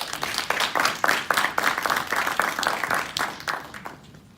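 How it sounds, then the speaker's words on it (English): A conference audience at a Harvard Africa policy and entrepreneurship panel applauds a newly introduced panelist, with distinct, fairly sparse claps in a moderate burst that thins out toward the end. "Ladies and gentlemen, a round of applause for Zenith Brahim."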